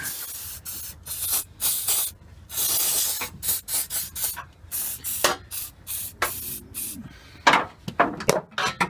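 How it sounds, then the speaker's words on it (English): Rapid bursts from an aerosol can of WD-40 or Inox sprayed onto rusty exhaust bolts on a Holden VL / Nissan Skyline R31 with an RB30 engine, loud and close, in a stop-start rhythm of short and longer hissing squirts. "Get a bit of inox or WD-40 in there."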